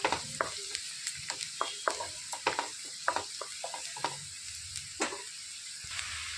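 Turmeric stirred into a frying curry base for capsicum egg masala, with a steady close sizzle broken by frequent sharp spoon scrapes and taps against the pan.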